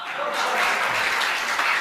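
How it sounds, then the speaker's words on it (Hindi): Crowd applause, a dense wash of many hands clapping at once, steady and fairly loud throughout. "आप लोगों को तालियां बजानी ही होगी"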